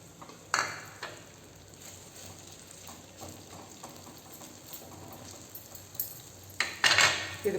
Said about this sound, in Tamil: வெண்டைக்காய் நம்ம வதக்கி எடுத்துக்கணுங்க